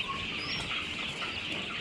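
Newly hatched Ross 308 broiler chicks in a brooder box, a soft steady chorus of high peeping and cheeping, fairly faint and continuous with no talk.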